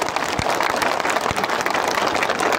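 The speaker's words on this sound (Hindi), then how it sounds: "सब इनको भी एक बड़ा ताली दीजिए।" An audience at a political speech in Sabroom, Tripura applauds, dense continuous clapping from a large crowd filling the room at steady volume.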